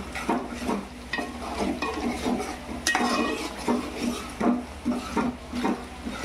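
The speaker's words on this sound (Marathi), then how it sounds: "अद्रक, लसूण या चारीली पेस्ट आता मस्तपैकी शिजून द्यायचे आहेत आपल्याला।" Ginger garlic paste cooks in a pan for chicken biryani while a utensil stirs and scrapes it, with repeated clinks and knocks over a soft, low sizzle.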